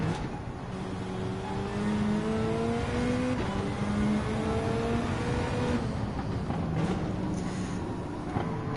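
Engine of a Group B rally car racing in Gran Turismo 7's World Rally Challenge on Trial Mountain, with a steady loud drone and rising, shifting revs through gear changes and no talk.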